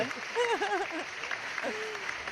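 Light applause from a small studio audience welcomes a mortgage advisor guest on a radio show, soft clapping running briefly beneath a nearby speaking voice.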